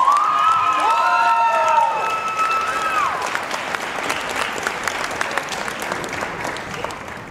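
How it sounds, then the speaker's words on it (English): A concert audience at a school jazz band winter concert claps and cheers loudly. The applause swells at first with shouts and whistles riding on top, then settles into a steady, broad patter of many hands that continues to the end. "can we give a round of applause for Mr. Carruthers"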